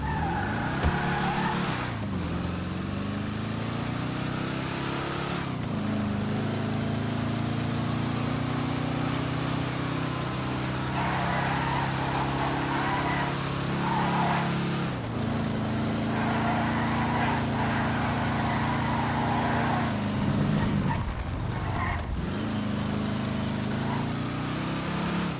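A two-door muscle car engine drives through a video game test drive. It drones steadily throughout, with shifts in pitch as it revs up and drops back at a few points.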